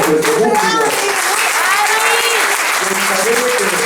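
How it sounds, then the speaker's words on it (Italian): An audience at an amateur Sicilian theatre company's comedy performance applauds loudly and continuously while someone speaks over the clapping. "io farei un grande applauso a questo pubblico"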